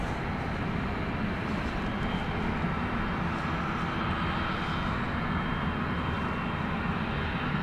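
An airliner passes near London City Airport with a steady, broad engine roar that holds constant throughout, fairly distant and without breaks.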